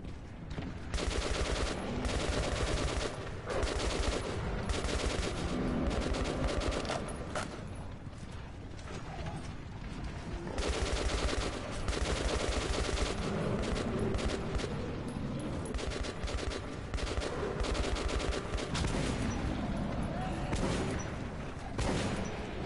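Repeated shotgun blasts in Metro 2033 Redux as beasts attack, dense and loud gunfire mixed with mechanical clatter and creaks throughout, with brief lulls between bursts.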